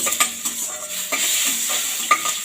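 Mustard seeds, urad dal, cumin and dried chilies fry in hot oil, giving a dense, close hiss of sizzling with repeated sharp pops and crackles and a few light stirring scrapes.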